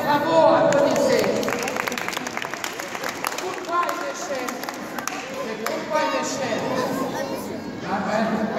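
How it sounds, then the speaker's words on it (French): Children applaud in a cathedral, scattered clapping rising and falling amid chatter and lively voices in a reverberant space. "bravo, applaudissez"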